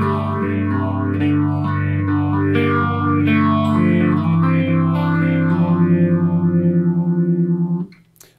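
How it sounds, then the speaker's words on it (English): Phaser effect on an electric guitar: chords ring with a slow, regular swirling sweep rising and falling, loud and steady on their own before stopping abruptly near the end. "now we're going to hear a phaser."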